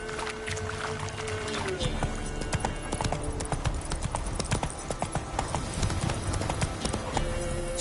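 A horse gallops in Witcher 3, rapid rhythmic hoofbeats pounding steadily and close over game ambience, with a spoken voice and a brief neigh-like tone mixed in.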